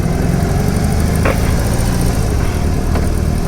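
A BMW R 18 B bagger motorcycle's big engine runs steadily, a continuous low rumble with a faint vibration that stays constant and close throughout.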